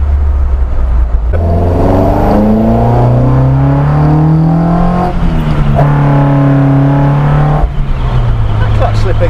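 Modified Morris Minor engine pulling hard through the gears, rising harmonic tones climbing, dropping at each shift and climbing again, loud and close as if from inside the car, with a clutch slipping slightly.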